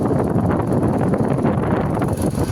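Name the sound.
cold wind blowing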